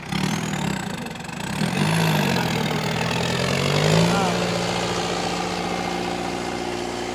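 A modified tractor engine idles with a steady low rumble, revving slightly at moments, loud and close throughout.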